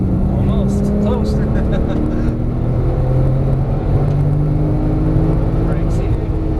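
A Porsche 997 S accelerates on the Las Vegas Motor Speedway track, its engine note rising steadily and staying loud and close, while a voice talks over it in places.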